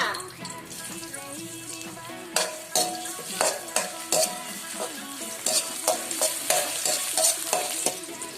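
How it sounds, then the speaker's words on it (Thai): Loud sizzling of shiitake mushrooms in hot oil, with a spatula repeatedly clattering and scraping against the pan as they are stirred. "แล้วก็นำเห็ดหอมลงไปผัดก่อนเลยจ้า"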